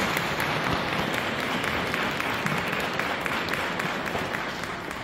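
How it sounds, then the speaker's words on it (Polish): An audience at a community carol-singing gathering claps in sustained applause, a dense, even patter of many hands held steady for several seconds before easing slightly at the end. "Myślę, że raz jeszcze ogromne brawa,"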